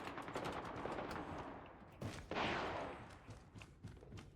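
Rapid automatic gunfire in a first-person shooter as shots go through windows, steady bursts with a sharper blast midway, moderately loud and with no talking.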